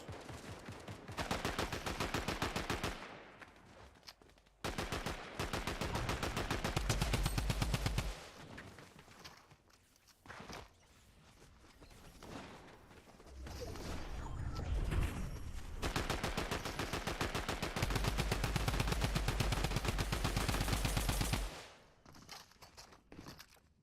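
Automatic weapons fire in the video game Fortnite during a ranked duos match, coming as loud, rapid bursts of shots separated by short quiet gaps, with light footsteps between them.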